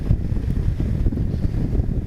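Motorcycle fitted with a MadStad windshield cruising along a road, with a steady, loud blast of wind buffeting the microphone over a low engine rumble.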